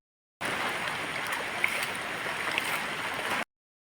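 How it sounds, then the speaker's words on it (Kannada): Floodwater from a swollen stream rushes past the edge of a plantation, a continuous broadband gush of moving water that holds steady for about three seconds, with no talking. "ನೀರು ಎಷ್ಟು ಬರ್ತಾ ಉಂಟು ನೋಡಿ ನಮ್ಮ ತೋಟದ ಬದಿಯಲ್ಲಿ"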